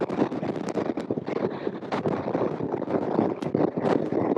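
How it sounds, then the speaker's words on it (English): Strong wind gusts buffet the microphone on a mountain road through Aconcagua national park at Paso Los Libertadores, a constant loud rumbling roar with sharper bursts and no clear voices. "Oh my god, the wind!"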